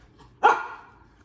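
A single loud, close dog bark rises sharply and trails off over about a second, heard alone with no talk around it.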